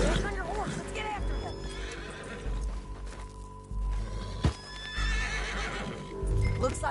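A horse whinnies loudly while hooves clip-clop steadily in Red Dead Redemption 2, with voices talking over the scene and a dense background of game sounds.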